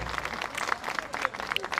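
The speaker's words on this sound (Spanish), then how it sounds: "¡Fuertes los aplausos!" A crowd claps loudly and steadily at a union leadership inauguration ceremony in Jujuy, Argentina, just after a birthday cheer. Dense, close applause fills the whole moment, with a faint voice mixed in.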